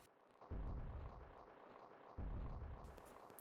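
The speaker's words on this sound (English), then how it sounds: "Just in time before the big explosion, marking the end of the first adventure of Lara Croft" Two heavy explosions boom out at the close of the Tomb Raider (1996) video game, each one a sudden deep blast that rumbles and fades, the second landing about two seconds after the first.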